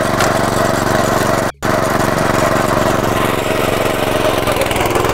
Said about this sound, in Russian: И у нас заработала сама косилка.